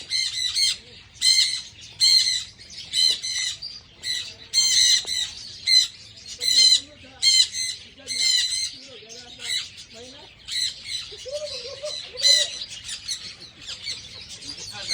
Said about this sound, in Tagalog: Bye-bye, bird.